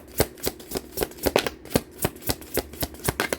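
Tarot cards are shuffled by hand in quick, regular riffling bursts, about a dozen crisp papery snaps in steady rhythm, close and clear with no talking.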